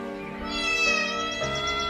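A cat's drawn-out meow used as a sound effect in a Bengali radio suspense drama of The Black Cat, a single clear, close, tonal call rising then falling over two seconds.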